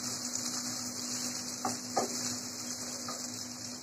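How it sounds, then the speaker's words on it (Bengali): Chopped onions frying in hot oil, a steady close sizzle with a few soft stirring scrapes partway through, alone with no talk. "গরম তেলে দিয়ে দিচ্ছি পেঁয়াজ কুচি। হালকা একটু ভেজে নেব,"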